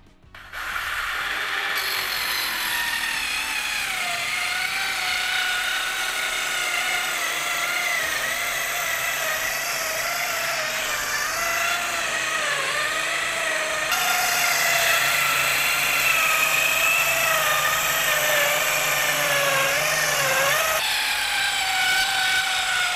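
A power saw cuts through plywood held with two clamps, a steady loud whining drone with a shifting pitch that runs almost unbroken for about twenty seconds, with no talk over it.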